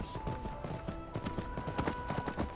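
Horse hooves clip-clop in a quick, steady rhythm on a trail through a mountain pass in Skyrim, close and continuous with no talking.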